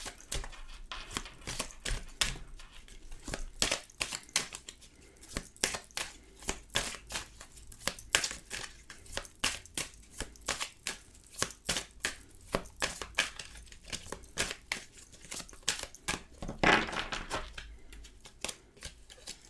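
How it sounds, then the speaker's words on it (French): Tarot cards are shuffled close by in a long run of quick, crisp riffling snaps and slaps, repeated steadily and faintly with no talk. "Je mélange les cartes."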